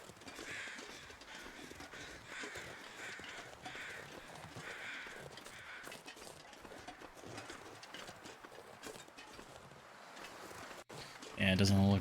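Crows caw in a video-game survival wilderness, a series of harsh, rhythmic calls at a moderate distance over a steady outdoor ambience, with a sudden louder thud near the end.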